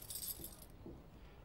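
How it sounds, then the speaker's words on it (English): A bunch of keys jangles briefly and close by, a bright metallic shimmer lasting under a second, followed by a soft clink and quiet room tone. "Miss Phillips' keys"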